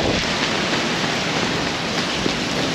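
Heavy rain pouring down in Manhattan, a dense, loud, even hiss of drops hitting streets and surfaces that stays constant throughout, with no voices.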